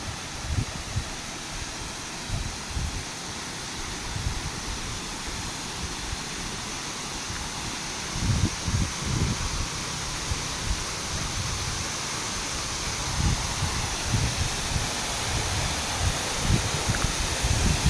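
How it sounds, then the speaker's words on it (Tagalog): A waterfall rushes outdoors in a steady, broad wash of falling water that holds an even level throughout, with a few louder surges and no voices. "Busay na yan, oh."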